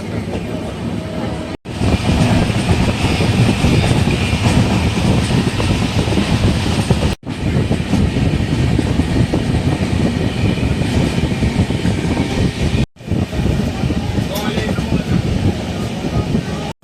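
The Vaigai superfast express train runs at speed, heard from inside as a loud continuous rumble and rattle of carriages on the rails, with brief cuts between stretches.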